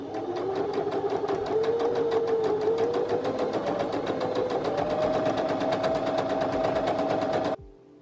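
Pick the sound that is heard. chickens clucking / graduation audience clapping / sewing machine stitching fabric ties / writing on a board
sewing machine stitching fabric ties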